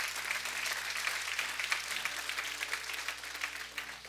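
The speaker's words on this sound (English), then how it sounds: "Can we give the Lord a hand clap for that?" A congregation claps at an evening church service, with dense, even applause and distinct individual claps at moderate volume over a low hum, continuing for about four seconds.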